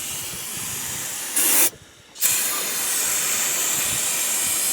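A can of brake cleaner sprays near a twin-turbo S10 race truck, a loud close hiss over a steady engine-like rumble, with a sharp burst and a brief drop before the hissing resumes.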